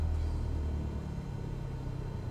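Aircraft engine in a flight simulator spooling up steadily for takeoff after brake release, a continuous low rumble holding at moderate level with no voices over it.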